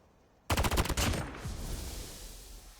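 Video game weapon elimination effect: a sudden rapid burst of gunfire erupts after a quiet moment, followed by a crackling, decaying tail, loud and close with no talking.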